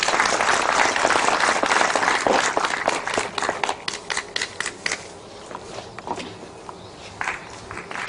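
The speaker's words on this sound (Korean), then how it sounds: "여러분 나오실 때 박수를 좀 보내주십시오" Applause at a Korean literary award ceremony as a poetry reciter walks to the stage, dense and close at first, then thinning over the last seconds into a few scattered, isolated claps.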